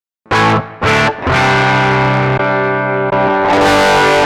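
A loud, buzzy distorted electric guitar through a Tonex pedal with the cabinet simulation bypassed plays a few short stabs, then sustained chords, with a harsh, fizzy tone lacking warmth.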